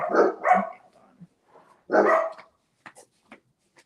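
Dogs bark from downstairs in a house, two quick barks followed by a longer one, with faint yips and small sounds trailing off between them.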